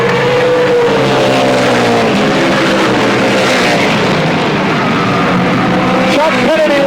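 Race cars roar loudly down the back straight at Motordrome Speedway during a 1992 multi-division race, engines droning and shifting pitch as they battle, with an announcer talking over the constant noise.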